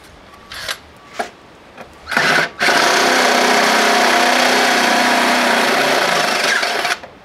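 A power drill fitted with a step bit bores a hole for a bolt, starting with a few short bursts, then running in one loud, steady grinding whine for about four seconds before stopping.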